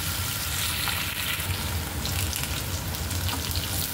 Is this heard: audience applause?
no